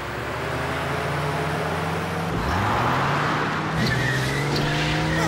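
A cartoon car speeds out of control, its engine whining steadily and then rising in pitch as the tires squeal and skid, loud and close with no talking.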